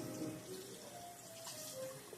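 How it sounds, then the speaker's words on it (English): A tap runs steadily into a sink while hands are wetted from the wrist down for a clinical handwashing routine, a continuous close splashing hiss with no talk. "I'm going to go ahead and start wetting my hand from my wrist down, making sure that I am not touching the sink"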